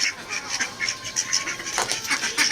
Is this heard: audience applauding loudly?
no